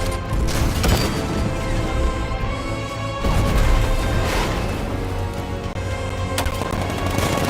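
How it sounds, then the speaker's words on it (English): Heavy tank cannon fire in Batman: Arkham Knight, with repeated loud blasts and booming impacts over a dense, rumbling battle din, no voices. ".60mm cannon operational."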